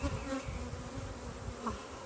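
Honeybees buzzing around an open hive during an inspection, a continuous close droning hum of many wings with individual bees passing near, steady and fairly quiet with no talk.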